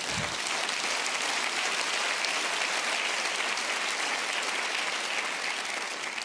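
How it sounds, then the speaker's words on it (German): Broad, sustained applause from the audience at the 2013 Bambi award ceremony, a big hall full of clapping at a constant level for over six seconds, with no voices heard. "Sie dürfen klatschen."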